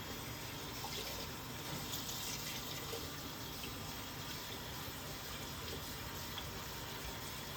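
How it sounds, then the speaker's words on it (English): A sink tap runs steadily to fill a container for brining chicken, a constant close hissing gush of water with no voices. "The reason I like to do it over the sink here, because I can add water."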